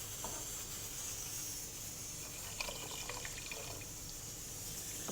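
Water streams steadily into a pot of mutton cooking for an Eid ul Adha dish, a continuous soft hissing pour with faint clinks, moderately quiet and without talk.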